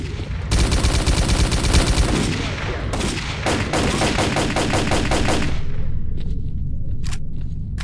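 Rapid automatic gunfire in the video game S.T.A.L.K.E.R.: Call of Pripyat, loud dense bursts for about five seconds that break into sparser single shots and a quieter tail.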